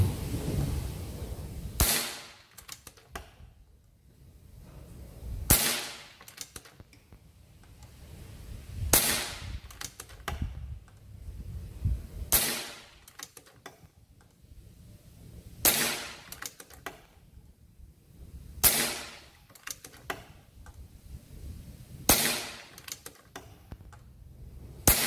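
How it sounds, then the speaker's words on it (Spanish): Sharp, sparse shots from an Avenger 5.5 mm air rifle crack out one at a time every few seconds, each a brief snap followed by quieter handling noise between them. "Veinte tiros."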